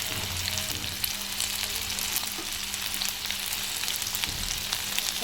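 Garlic frying in hot oil sizzles steadily as ginger goes in, a dense, even hiss close by with a few soft knocks and stirring sounds.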